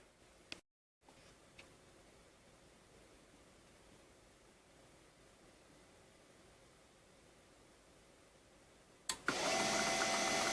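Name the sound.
laser printer being handled and running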